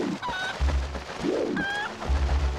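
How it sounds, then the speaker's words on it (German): A video game chicken in Zelda Twilight Princess gives a few short, squawking clucks in quick bursts, close and clear over low background game music. "Hier gibt es aber auch einen Huhn."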